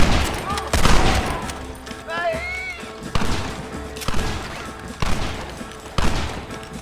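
Red Dead Redemption gunfight with a rapid volley of gunshots, then repeated sharp reports roughly once a second, loud and close, with shouting voices in between.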